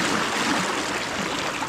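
Fast, broad river current rushing around an angler wading mid-river during winter steelhead fishing, a steady close wash of broadband water noise with no talk.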